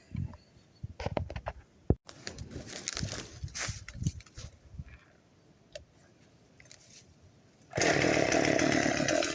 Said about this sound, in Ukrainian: беремо 36-ту хускварну, що тоненьке дорізаємо